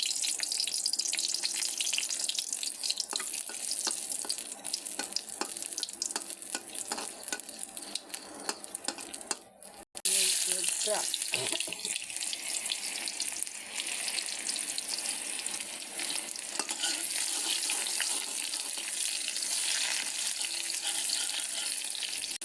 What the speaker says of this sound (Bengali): এখন বাগার দিই। লাল মরিচ দিয়ে দিলাম